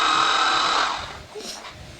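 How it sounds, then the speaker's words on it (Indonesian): Power drill boring deep into a felled wooden log, a loud high whine that holds and then winds down partway through, leaving quieter scraping and handling noise behind. "Ini di bornya sampai tembus, pokoknya sampai mentok aja."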